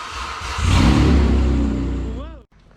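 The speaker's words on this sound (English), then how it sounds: "First startup of the new exhaust system on the Tiburon." A Hyundai Tiburon engine starts up for the first time through a newly installed exhaust. It catches with a loud, throaty rumble that holds steady for about two seconds, then cuts off abruptly. A brief whistle-like tone sounds near the end.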